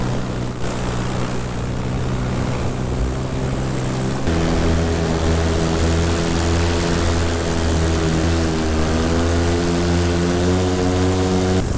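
Several paramotors fly overhead, with a loud, steady propeller drone that holds throughout and shifts pitch partway as one passes closer.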